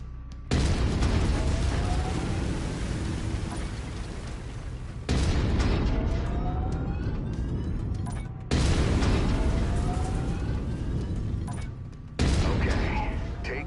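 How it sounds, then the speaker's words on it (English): A BattleMech's autocannon in Mechwarrior 5 fires in four long, loud bursts of rapid, booming shots, each stretch separated by a brief pause and backed by mechanical clatter. "I've mapped the autocannon to Weapon Group 1. You're free to fire whenever you're ready."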